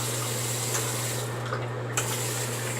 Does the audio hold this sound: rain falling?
no